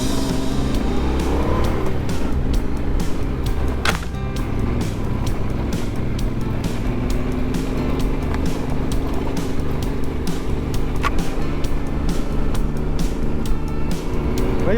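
A CF Moto CL-X 700 Adventure motorcycle rides off-road, its engine droning loudly and steadily throughout, mixed with wind buffeting and rough terrain knocks.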